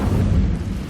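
Incendio, a fire spell cast in Hogwarts Legacy on the Switch, gives a loud, dense, roaring burst of flame that lasts about a second with no voice over it.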